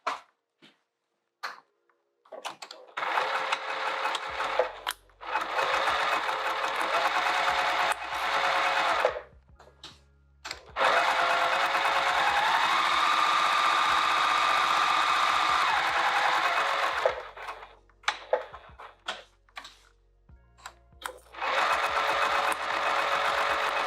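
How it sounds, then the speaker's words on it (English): A sewing machine stitches the sides and bottom of a fabric pocket for a travel clutch, running in long steady whirring bursts with brief pauses between seams, loud and close. "what I'm going to do is sew the sides and across the bottom"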